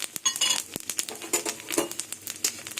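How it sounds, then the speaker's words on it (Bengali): Whole cumin seeds and bay leaves drop into hot oil in a kadai over a gas flame, giving close, irregular crackling and spattering pops with light clinks, no voices. "এর মধ্যে গোটা জিরে আর তেজপাতা দিয়ে দেবো"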